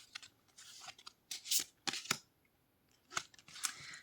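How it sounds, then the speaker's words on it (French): A card is drawn from a tarot or oracle deck: a few soft, crisp rustles and snaps of card stock sliding and flicking, close and quiet, in short irregular bursts with nobody speaking. "On va tirer une dernière carte."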